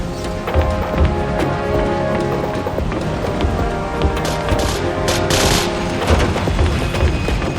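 Gunfire in the PS2 game Battlefield 2: Modern Combat rattles continuously in dense overlapping bursts with occasional booms, loud and close throughout, with no voices.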